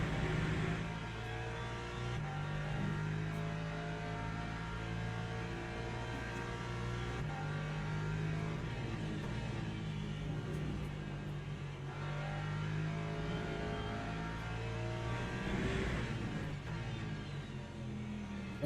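LMP2 prototype race cars in the Le Mans Ultimate sim racing game at Interlagos, engines droning and shifting pitch as they pass with steady, layered revving over about nineteen seconds.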